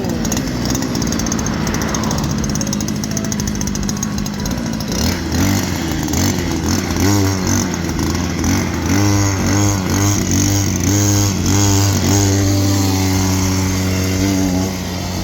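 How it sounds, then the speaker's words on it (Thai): A small motorcycle engine idles loudly up close, then revs repeatedly in quick, rising bursts before settling into a steady high drone. "ไหนเร่งเร่งเร่งเครื่องโจก่อนนั่น"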